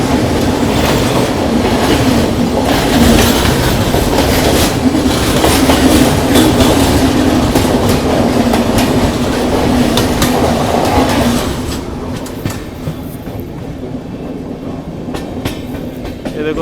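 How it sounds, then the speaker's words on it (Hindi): The New Delhi–Thiruvananthapuram Kerala Express rumbles past on a curve near Sevagram with loud, close clickety-clack of wheels over rail joints, then fades to a quieter rumble as it moves away. "ये देखो दो ट्रेन एक साथ सेवाग्राम के कर्व पे। वो चली गई केरला एक्सप्रेस।"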